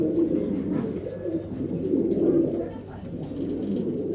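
Pigeons cooing steadily in a low, rolling murmur, several birds overlapping close by with a faint background hum.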